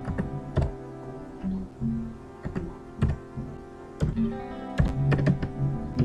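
Computer keyboard typing at close range, a steady run of quick key taps and clacks with short pauses and occasional heavier thunks from a larger key, no voices.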